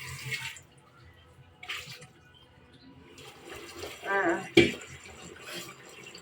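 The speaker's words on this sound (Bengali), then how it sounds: "পাতিলটার ভিতরে একটু ধুয়ে নিচ্ছি তারপরে ধুয়ে রাখবো" Water splashes into and swirls around the inside of a cooking pot under a running tap, a few separate bursts of rinsing with quiet pauses between, close and moderately loud.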